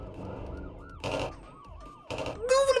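Wailing police siren sweeping up and down amid game effects and short bursts of noise in the video game City Monsters, with a voice briefly heard.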